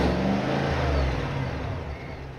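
A Chevy Silverado ZR2 Bison V8 revs from outside the truck, a deep, loud, rumbling engine roar that slowly fades over a couple of seconds.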